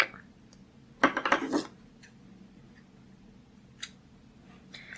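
Scissors snip into a piece of Peerless watercolor paint: a quick burst of several crisp cuts, close and fairly loud, followed by near-quiet with a few faint ticks.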